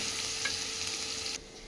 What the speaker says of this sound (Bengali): এবার পেঁয়াজ কুচিটা দিয়ে দিলাম।